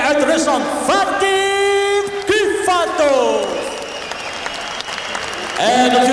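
Applause from the audience at a fighting event fills the hall around an announcer's amplified voice and tonal music, a broad steady wash that dips briefly midway before swelling again.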